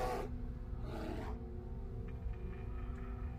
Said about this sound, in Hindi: कन्फर्म है ये भालू की आवाज़ है